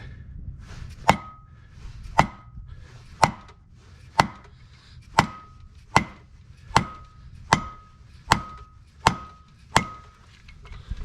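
A dead blow hammer strikes repeatedly while seating a wheel bearing, about a dozen sharp thuds in a steady, evenly spaced rhythm, fairly close, with a faint ring after each blow.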